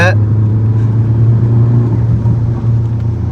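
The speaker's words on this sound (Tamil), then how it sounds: "அது பாட்டுன்னு டவுன் ஷிஃப்ட் பண்ணுற சத்தம் இருக்கே வண்டியில்" Custom stage 5 turbocharged Skoda Laura 2.0-litre diesel engine drops a gear while cruising, giving a steady, loud low drone with a brief rising whine at the start, heard from inside the car.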